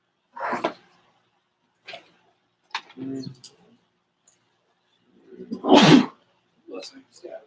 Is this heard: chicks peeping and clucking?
no